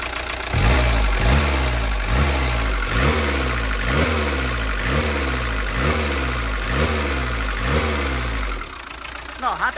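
An old Volkswagen Transporter T3 diesel engine idles with a loud, regular clattering knock, each beat evenly spaced, before the sound drops off near the end.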